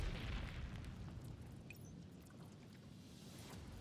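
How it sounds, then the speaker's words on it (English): A cannon explosion in the video game Neural Cloud: a deep, rumbling boom with a broad low roar that lingers and slowly fades, heavy and close, with no voices. "A deafening explosion"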